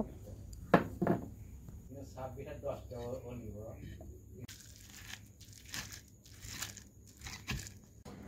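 Fried ingredients for a dhenki shak bhorta are ground on a bata stone mortar, giving faint, irregular gritty crunching and scraping strokes, with a voice speaking briefly partway through.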